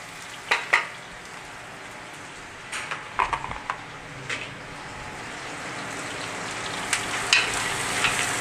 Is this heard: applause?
no